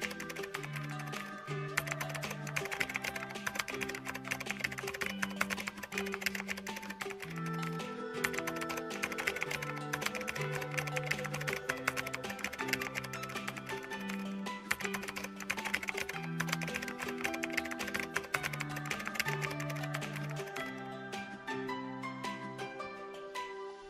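Typing code into a Roblox Studio local script on a computer keyboard, a steady run of quick key clicks that continues for the whole stretch, laid over constant melodic background music.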